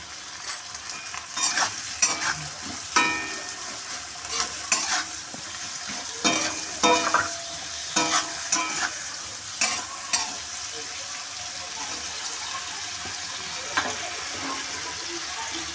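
Chilli chicken ingredients sizzle in a pan while a spatula stirs them in repeated scraping strokes, clustered through the first ten seconds, then the frying continues more quietly with one late scrape.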